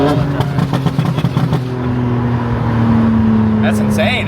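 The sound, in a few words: 900hp 2025 BMW M4 accelerating hard in all-wheel drive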